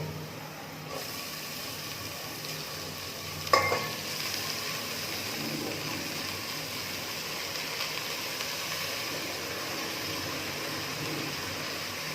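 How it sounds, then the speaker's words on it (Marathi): Red amaranth leaves tossed into a pan of fried onion, giving a steady, close sizzle that swells briefly with a sharp rustle as the greens land, then settles into an even frying hiss. "आता यामध्ये मी लाल माठ घालते."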